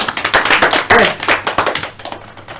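A small group in a university microteaching class claps for a student presenter: rapid, uneven hand claps close by, loud at first and thinning out over about two and a half seconds.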